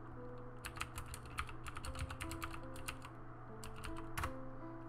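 Password being typed on a computer keyboard at a Cisco router console terminal, a steady run of quick, light key clicks with brief pauses, close and clear over a low steady hum, no voices.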